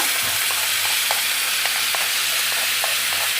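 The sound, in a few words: stirring cooked young jackfruit into a frying sautéed masala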